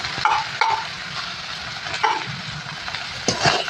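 Boiled banana flower fries with cooked spices for a mochar ghonto, producing a continuous close sizzle punctuated by several sharp spatula scrapes and knocks against the pan.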